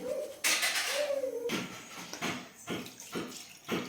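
Water pours in a short steady stream into bajra (pearl millet) flour, then splashes and squelches in a few soft bursts as the dough is kneaded, close by.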